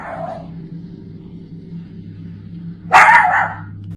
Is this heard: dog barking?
yes